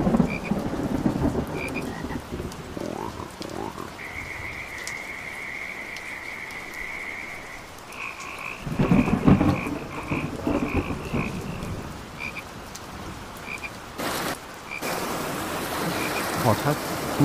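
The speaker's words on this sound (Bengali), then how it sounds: "চারপাশ অন্ধকার, শুধু ব্যাঙ ডাকা আর বৃষ্টির হঠাৎ।" Frogs croak by a dark pond in light rain, repeated calls over a soft rain hiss, with a few louder bursts and distant thunder-like rumbles in a cartoon scene.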